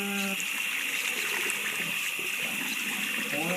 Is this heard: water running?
yes